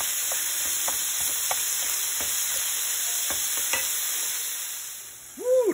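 Meat sears in a Ninja non-stick pan for chili, holding a steady, close hiss with scattered spatula taps, then fading toward the end before a brief louder clatter.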